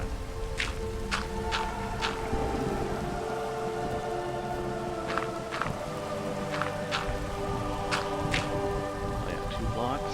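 Steady rain falls in the video game Minecraft, a dense continuous hiss with scattered sharp clicking taps from gameplay sounds layered on top.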